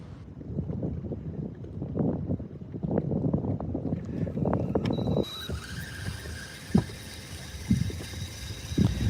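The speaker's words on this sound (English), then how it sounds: "I wasn't able to hide from the wind" Strong wind gusting across a lake during bass fishing, a loud broadband roar and buffeting against the microphone, with some rustling and knocks from the boat.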